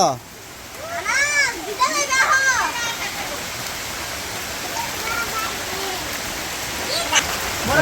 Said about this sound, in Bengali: এই যে বৃষ্টি হাই রে হাই রে বৃষ্টিতে একবারে কান্দা পড়ছে এখন